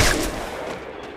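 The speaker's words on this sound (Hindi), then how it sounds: "car 98 is the प्रोएस्ट gun in the world" A single loud, close gunshot from a Kar98 bolt-action rifle in a video game, sharp crack followed by a decaying rumble with no talk.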